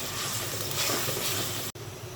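Onion, green chilli and garlic paste sizzle in hot oil in a kitchen pan while water spinach is being cooked, giving a steady, close crackling fry with a brief dropout near the end.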